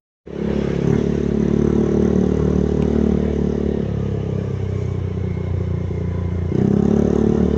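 A motorcycle engine revs steadily up close for several seconds, a sustained loud drone with a brief lull and a fresh surge of throttle near the end.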